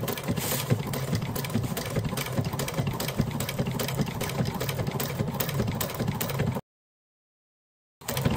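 A sewing machine runs continuously as it stitches the final securing seam of a laptop bag, a close, steady rapid whirring chatter that stops abruptly for over a second before starting again.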